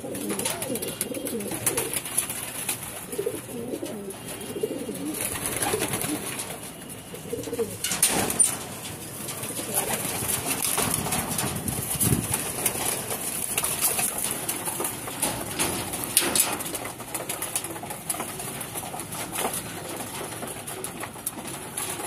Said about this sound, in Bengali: এই জন্য যেই 6-7 পিস কবুতর বসাইছি ওরা আবার রেডি